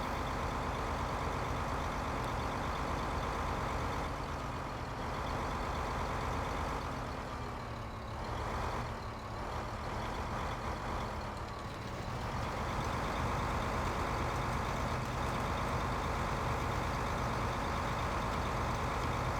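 A 150 horsepower modern tractor in Farming Simulator 15 drives slowly, its engine making a steady, continuous drone with a mild dip in the middle, loud and alone throughout.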